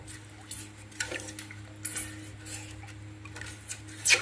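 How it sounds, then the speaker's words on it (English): Whisk or spoon working Jamaican sweet potato pudding batter in a bowl, a soft irregular ticking and scraping against the bowl under a steady low hum, faint and close. "we've been mixing for about 2 minutes at this point"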